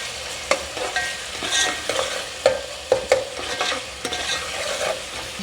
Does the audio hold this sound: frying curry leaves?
yes